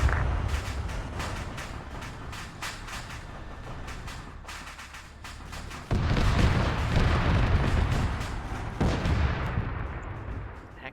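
Gunfire and heavy booms in the Arma 3 military game during a winter tank battle, with a steady rumble of distant shots that swells into louder, denser blasts partway through.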